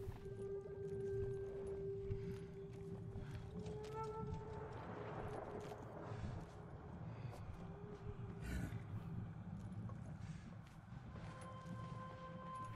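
Horse hooves clip-clop steadily through a video-game battle, mixed into a busy layer of game noise with tonal sound effects and a roar-like swell near the middle.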